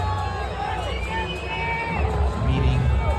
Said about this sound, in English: Everyone cheering for him.